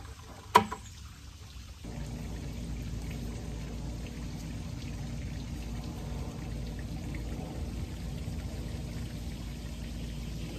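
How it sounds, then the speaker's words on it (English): Pond water poured onto the base of a young espaliered pear tree, a steady soft splashing and trickling that runs continuously after a brief knock at the start, close and without talk. "Feed and give my trees a nice drink"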